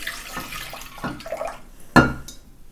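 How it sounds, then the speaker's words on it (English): Soy milk poured into a bowl for bread dough makes soft liquid splashes and trickles. A sharp clink of the container against the bowl sounds near the end, close and fairly clear. "So this has soy milk because that's how we did it last time we made it. You're gonna pour it in."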